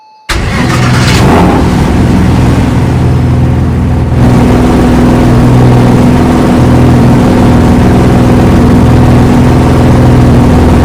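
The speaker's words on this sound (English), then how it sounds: "we're gonna do a sound test on the 3 cars I bought" An anniversary-model car in the Roblox game Greenville cranks and starts abruptly after a brief silence, then settles into a loud, steady engine idle with a deep, rough hum that sounds almost diesel-like, with no voices.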